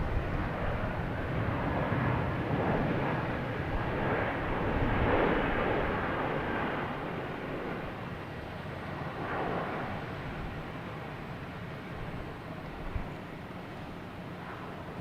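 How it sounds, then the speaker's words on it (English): An Aer Lingus airliner arriving from Dublin descends to land at Boston Logan, its jet engines a broad, distant roar that swells and then slowly fades over several seconds, with faint wind noise in the background. "Aer Lingus coming in from Dublin."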